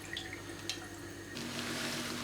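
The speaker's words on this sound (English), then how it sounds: "pour the water into the pan." A cup of water is poured into a pan heating on a stove, giving a quiet trickle that swells into a steady rushing splash toward the end.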